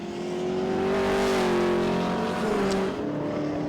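A Ford Falcon Group A touring car races past at Winton, trailing something from the back, its engine a loud sustained drone that rises and then falls away over about three seconds.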